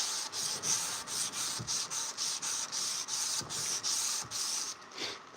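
A forged blade with wrought iron is hand sanded in long, steady strokes, each pass a rasping scrape with brief pauses between, close and continuous with no talking.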